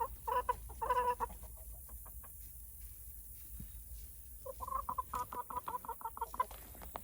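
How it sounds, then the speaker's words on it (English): A broody hen clucks in short, repeated bursts, a cluster at the start and another toward the end, fairly close, with quieter rustling and other chickens faintly in between. "See, that Broody Hen is back there."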